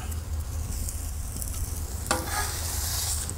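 A slice of Noire de Crimée tomato sizzles on a hot plancha with onion and chili, a steady broadband hiss that swells after a brief clatter partway through, close and continuous with no voices.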